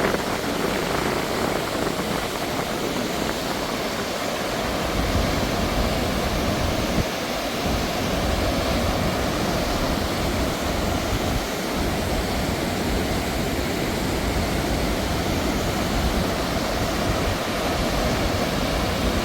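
Steady, loud rush of a waterfall heard up close, a dense broadband roar that continues unbroken with no voices over it.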